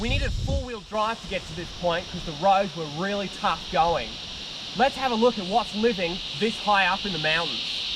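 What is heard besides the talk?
cicadas buzzing in the background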